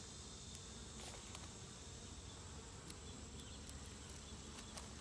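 A dense, steady hum of many honeybees buzzing together in a hive, constant and fairly quiet, with occasional individual bees passing closer.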